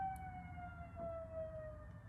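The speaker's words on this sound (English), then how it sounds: "And there's another siren." Faint emergency vehicle siren in the distance, a steady wailing tone drifting slowly in pitch beneath low traffic rumble, with no talking.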